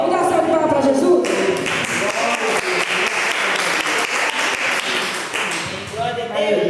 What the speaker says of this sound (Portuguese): vamos dar salve de palmas para Jesus